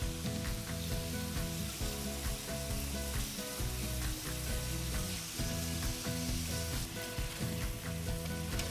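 Lamb pieces fry in a pan for a Mediterranean stir fry, a loud, steady sizzle with occasional scraping and stirring sounds as the meat is turned.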